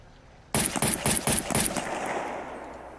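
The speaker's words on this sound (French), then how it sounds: "Vous prenez votre pistolet. Et on va attendre qu'il s'approche pour lui tirer tout simplement dedans." Five quick sharp pistol shots ring out in rhythm during an underwater shark encounter in the survival game Scum, each crack followed by a fading wash of water-muffled reverb.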